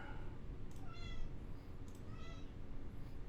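A cat meows several times in short, rising calls, fairly faint over a low background hum, with no speech.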